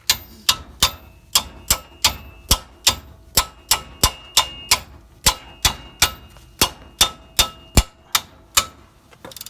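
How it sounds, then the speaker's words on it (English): Steady, evenly spaced sharp metallic taps from a small hammer striking metal while replacing a wheel hub bearing on a 2004 Chevy Tahoe, about two blows per second, close by, no talking. "so the hammer, this is really hard. So that's why we use the small hammer"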